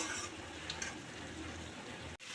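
Potato curry stirred in a pan gives a low sizzle with soft scraping throughout, continuous and close, cut off abruptly near the end.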